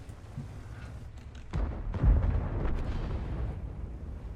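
A tank shell from an enemy gun penetrates the player's own tank in World of Tanks, landing as a heavy booming impact with a rumbling crash that swells mid-clip and lingers in a low, rolling roar.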